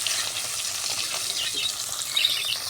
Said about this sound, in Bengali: সব ভেজে নেব, তাহলে আমার মাছ ভাজা সব হয়ে যাবে।